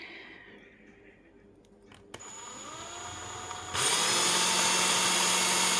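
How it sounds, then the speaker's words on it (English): A power drill on its lowest setting whirs up from quiet, its motor tone rising before settling into a loud, steady whine that runs to the end. "I've turned my drill onto the lowest setting"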